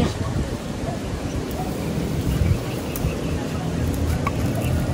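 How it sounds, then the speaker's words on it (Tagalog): Thunder rumbles outdoors as a steady, loud, low roar mixed with broad noise like rain, lasting throughout with voices faintly present. "Kulog. Nakabantay si Kulog."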